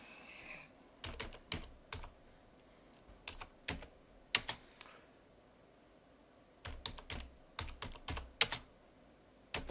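Computer keyboard keys typed in quick bursts of clicks separated by pauses, close and fairly quiet, while commands are entered on a Linux machine to install Flutter; no talking.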